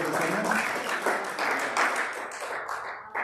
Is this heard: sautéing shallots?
no